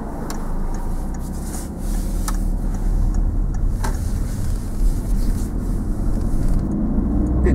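A silver car drives past with a steady, continuous rumble of engine and road noise that holds at an even level throughout, and no one speaks.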